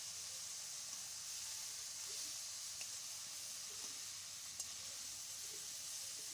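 Fried river prawns tossed into cabbage in a hot pan give off a faint, even sizzling hiss that runs steadily throughout, with a few tiny clicks.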